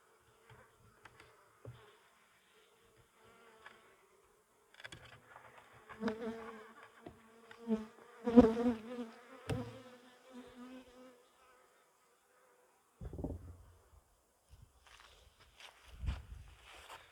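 Sparse buzzing of honey bees close by at a hive, coming and going in short bursts amid light handling sounds and quiet gaps.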